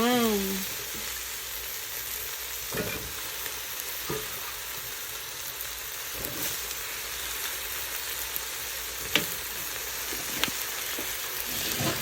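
Vegetables sizzle steadily in a pan for a long stretch, a continuous close frying hiss broken by occasional sharp scrapes and clicks of stirring utensils, with no talk.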